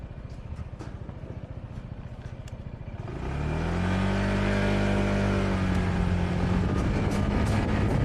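A scooter engine in Kuala Lumpur idles with a steady mechanical rattle, then revs up into a loud, sustained droning hum as it pulls away on a test drive, no talk.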